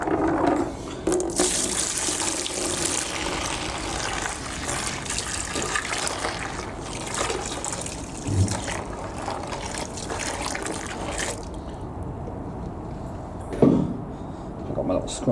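Very hot tap water mixed with bleach is poured into a 1995 Numatic Henry HVR200 vacuum, splashing and trickling steadily inside the tub while a person talks over it.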